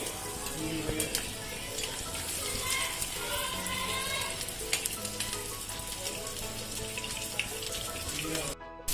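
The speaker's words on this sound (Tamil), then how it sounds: "நல்லா பொரியுது" Steady crackling sizzle of anchovies frying in hot oil, dense and continuous, with faint clinks of stirring.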